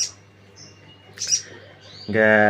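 A small caged songbird gives a few thin, high chirps spread across a quiet stretch, ending in a louder, fuller burst of song close by.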